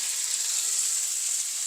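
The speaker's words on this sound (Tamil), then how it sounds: "இதெல்லாம் நல்லா வதங்க விடுவோம்." Vegetables including drumstick and potato sauté in hot oil in a pan for a spicy vegetable gravy, giving a steady, even sizzle and crackle up close with no one talking.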